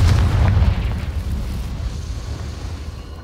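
A Confringo fire spell explodes in the Hogwarts Legacy video game, a loud deep boom at the start that rumbles and slowly decays into a long roaring tail.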